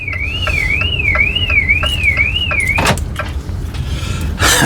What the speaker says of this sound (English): You hear my alarm going off then?